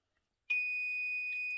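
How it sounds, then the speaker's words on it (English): PNW Deluxe sublimation tumbler press sounding its alert: after a brief quiet moment a single shrill electronic beep starts abruptly and holds steady and unbroken, close and clear. "So there is that long continuous beep that I talked about."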